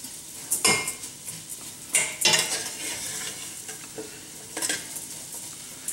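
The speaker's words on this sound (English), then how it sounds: "you just keep stirring this 2 to 4 minutes" Uncooked white rice with carrots and onions being stirred in a pressure cooker over medium-high heat, a spoon scraping the metal pot in several loud sweeps with a soft sizzle between them.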